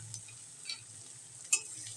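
Grated ginger and garlic with spices and cinnamon pieces being stirred in hot oil for a fish head curry: a soft, steady sizzle with a few light spatula taps, and no talking.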